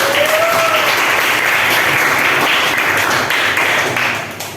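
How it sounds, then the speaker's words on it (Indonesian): Sustained applause from a classroom audience during an Islamic jurisprudence lesson, a dense, steady wash of many hands clapping up close that thins out toward the end. "Ya, tepuk tangan."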